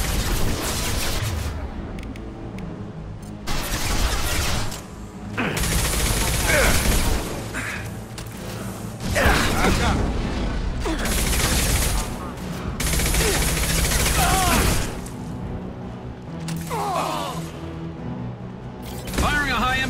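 Gunfire from the video game Mass Effect 2, including a high-impact armor-piercing shot, rattles out in loud bursts with booms and brief pauses, mixed with game sounds and a voice.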